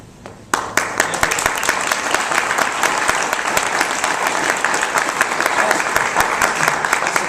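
An audience breaks into applause for a speaker at a meeting. The clapping starts abruptly after a quiet moment, then runs loud and close with sharp individual claps standing out.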